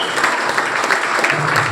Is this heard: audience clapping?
yes